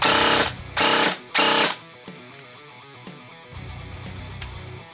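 Three short, loud bursts of an airsoft DSG gearbox cycling, close up, followed by quieter mechanical rattling and a low hum.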